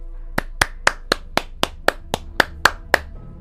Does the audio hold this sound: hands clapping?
yes